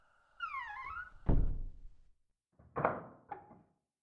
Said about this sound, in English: Come inside and shut the door